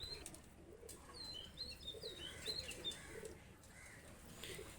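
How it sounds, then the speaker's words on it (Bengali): Two pigeons are released, their wings flapping faintly amid soft chirps and light bird sounds, a quiet and somewhat distant fluttering with no speech. "দুইটা কবুতর আমি ছেড়ে দেখাচ্ছি"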